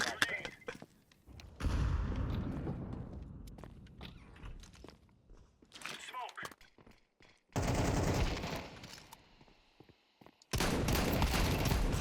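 Bursts of rapid video game gunfire erupt in loud stretches, separated by quieter gaps with scattered clicks and footsteps.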